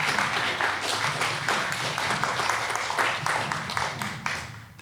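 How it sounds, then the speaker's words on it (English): A conference audience at a panel on stress and anxiety claps for a guest, giving a continuous, fairly loud spread of handclaps that fills the room, with some voices mixed in. "So please give an applause for Tom."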